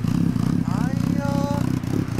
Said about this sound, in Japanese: エンジンを聞かせてください